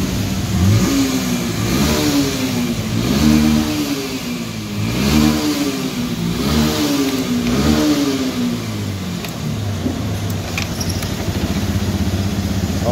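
A Honda Beat eSP scooter, recently troubled by error code 52 and stalling, runs after being kick-started, its engine revving up and down repeatedly in loud, close, rising and falling surges before settling toward idle.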